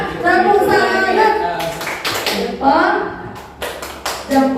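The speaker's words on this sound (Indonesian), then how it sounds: "Tepuk tangan." A group of schoolchildren claps in a classroom, bursts of applause mixed with an adult voice and children's chatter, lively and close.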